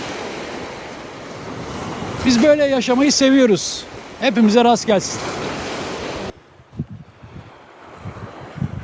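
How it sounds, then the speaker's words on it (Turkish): Sea waves wash steadily at a seaside campsite in Karaburun, mixed with wind noise on the microphone, while people talk and cheer over the surf. "Dalgaların sesini dinleyeceksin."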